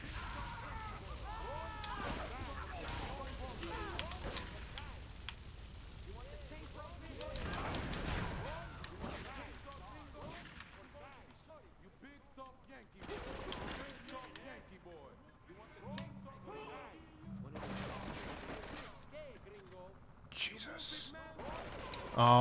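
Military rifle gunfire in the video game Grand Theft Auto III comes in loud, broad bursts of rapid shots in a few separate volleys, mixed under excited, near-constant talking.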